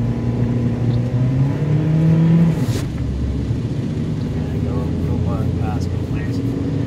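A car engine rises in pitch as it revs, then drops briefly when the driver shifts up into a higher gear on city roads around Port Moresby, Papua New Guinea. The sound is steady and fairly loud throughout, with muffled cabin noise.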